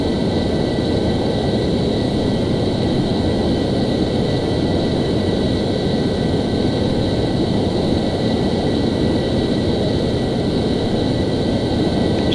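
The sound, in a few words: F-14 jet flying, video game Microsoft Flight Simulator X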